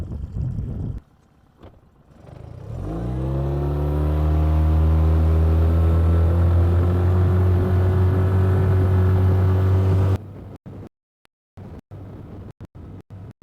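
A Mercury 9.9 hp outboard engine on a boat carrying two people starts up and climbs to a steady, loud drone at speed, then cuts off abruptly, leaving wind-buffeted quiet.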